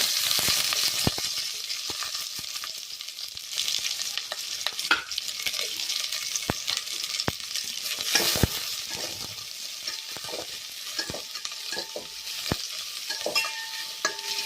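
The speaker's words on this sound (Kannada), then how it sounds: "ನೀರುಳ್ಳಿ ಎಲ್ಲ ಸೋಕೆ ಎಣ್ಣೆಡು ಫ್ರೈ ಆಡು" Onions fry in hot oil for a Tulu-style dish, a continuous bright sizzle broken by frequent spoon scrapes and stirring clicks, close and steady throughout.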